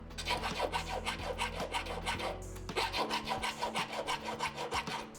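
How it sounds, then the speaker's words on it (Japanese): Metal ring's inner surface being filed by hand with a half-round file, steady rhythmic rasping strokes, close and fairly quiet, one after another without pause. "次にリングの内側をヤスります。"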